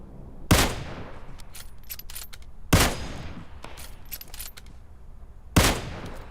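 Video game gunfire comes in three loud, sharp bursts spread across the clip, each followed by a short ringing tail and scattered distant shots between them.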